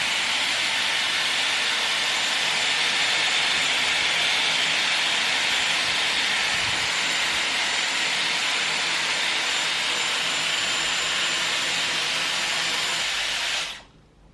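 Dyson Airwrap blowing hot air at highest heat and power, a loud, steady high-pitched whooshing hiss sustained for about fourteen seconds before cutting off abruptly.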